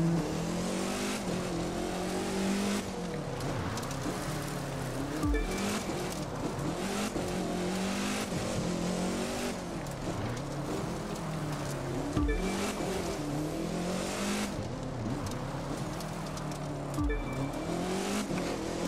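A car cruises down a mountain road near Yellowstone in the racing game The Crew 2, its engine droning continuously under a constant rushing noise, with brief drops in pitch at intervals as it shifts gears, and no voices.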